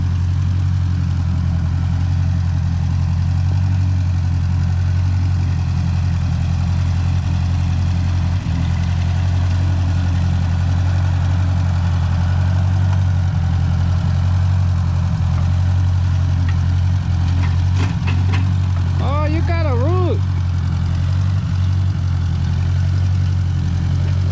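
A tow truck engine idles steadily with a low, constant rumble that holds for the whole stretch, and a brief whining, wavering tone rises over it near the end.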